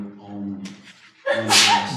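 During a county Board of Adjustment meeting, a person gives one sharp, loud sneeze that bursts out right after a stretch of someone talking.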